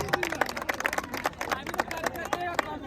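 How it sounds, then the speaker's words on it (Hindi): Crowd at a Jan Suraaj campaign gathering with a mini cricket tournament claps in a burst of sharp, irregular hand claps, fairly close and moderately loud, mixed with voices talking over it. "आप मनीषा रानी के लिए, मनोज जी के लिए एक बार जोरदार तालियों से उनका स्वागत करें"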